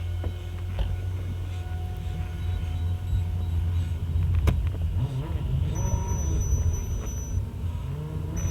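A truck engine idles and revs as the vehicle is moved at an auto repair shop. The motor hums low and steady and rises briefly in the middle. It sounds close by, with no talking.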